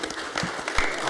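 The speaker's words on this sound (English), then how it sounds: "You got a round of applause." Brief burst of applause from an audience at a boxing press conference, a dense spread of clapping, moderately loud and continuous for about a second.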